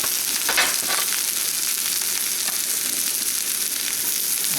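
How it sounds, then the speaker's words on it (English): Peppers sizzle steadily in a cast iron pan, a continuous close hiss of frying with faint scrapes from a silicone spatula. "Cast iron pan, spatula silicone. Okay, these are starting to cook down, show some brown."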